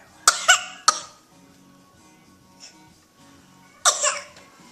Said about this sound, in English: And maybe Daddy gave you his cough.